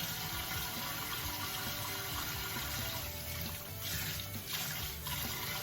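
Tap water runs steadily in a sink while a lace wig is washed to loosen leftover glue, a continuous close splashing trickle with no talk.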